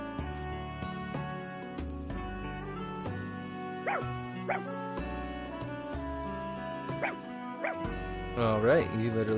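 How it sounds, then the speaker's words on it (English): A video game dog barking: several short yips and bow-wows scattered over a steady game music track, growing more insistent toward the end. "you literally just talk to the dog and it barks"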